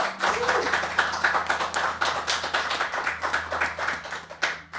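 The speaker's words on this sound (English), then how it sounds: "Let's give them a round of applause" An audience applauds a band after their song at the Conquerall Mills Music Show, a dense, steady patter of clapping over a low hum.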